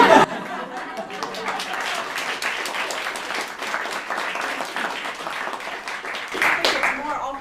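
Audience applause after a flute concerto performance at a masterclass, a sustained, fairly close patter of many hands mixed with some laughter and chatter, swelling briefly near the end.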